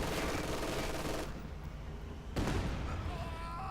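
Gunfire in a Company of Heroes 2 battle, with machine-gun bursts and shots against an IS-2 tank, comes as a dense, fairly quiet rattle broken by a brief lull and then a renewed burst.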